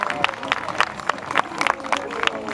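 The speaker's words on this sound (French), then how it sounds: "Allez, il faut l'applaudir bien fort" Crowd applause and cheering at a stock car race in Saint-Junien, Limousin, as the driver climbs out of his car after a rollover, a steady spread of clapping with scattered sharper claps throughout.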